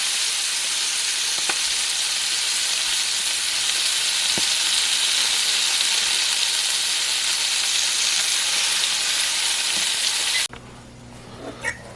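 Swiss chard frying in a hot skillet gives a steady, loud sizzle and hiss with a few faint clicks, then cuts off abruptly near the end, leaving quieter background sound.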